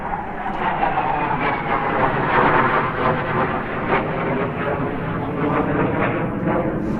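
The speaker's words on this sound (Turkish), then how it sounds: "Uçak tepemizden uçuyor." An airplane passes overhead along a road, giving a loud, steady broadband roar that swells slightly in the middle and holds for the full seven seconds.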